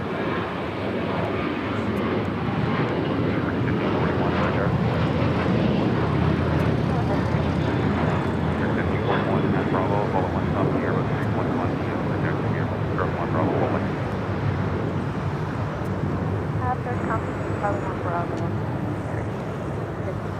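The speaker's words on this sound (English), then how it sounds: "WestJet coming in from Winnipeg, 737 MAX 8" A WestJet Boeing 737 MAX 8 lands at LAX, a continuous loud engine roar rushing steadily across the whole stretch, with faint voices beneath.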